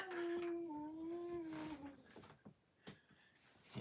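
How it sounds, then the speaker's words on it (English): A frightened dog cries in a long, high, wavering whine for about two seconds, then trails off into fainter, broken whimpers and small noises close by. "my dog crying in the background"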